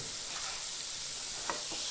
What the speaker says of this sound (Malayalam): ബട്ടർ ഒന്ന് മെൽറ്റായി വരെ എല്ലാ ഭാഗത്തും ഇതാക്കാൻ നമ്മൾ ഒന്ന് ചേർത്തി